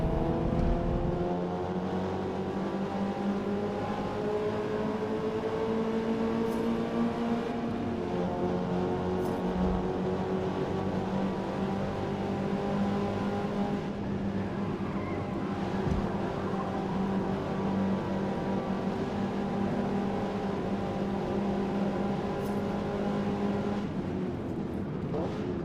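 Mazda Miata spec race cars in a Forza Motorsport race drone steadily, their engines holding and shifting pitch as the cars pass, a continuous loud mechanical whine with no talk.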